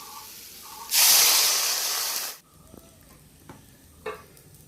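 Water poured into a pan of frying potato, onion, tomato and chopped chilli bursts into a loud, close hissing sizzle lasting about a second and a half, then drops to a quiet simmer with faint clinks.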